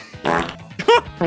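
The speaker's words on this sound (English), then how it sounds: "We can finally just find out what's the best farting game of all time" A cartoonish fart blast from a farting video game, a loud stretched raspy burst followed by a shorter squeaky puff, up close with no talk over it.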